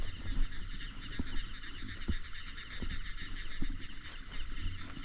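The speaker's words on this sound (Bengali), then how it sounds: "মনে হইতেছে সামনে দিয়ে ব্যাঙ ডাকতেছে।" A chorus of frogs croaks on a foggy night in a Bangladeshi village, a continuous pulsing trill that fills the background, with a few soft thumps from nearby.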